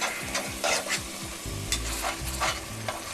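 Chicken ragù being stirred in a pot with splashed-in wine, a soft sizzle and repeated scraping strokes of the spoon across the bottom, close and steady with no talk.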